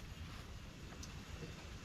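Wind blowing steadily outdoors in a rural farming area, a continuous broadband rush with low rumbling gusts against the microphone, loud and unbroken throughout with no voices.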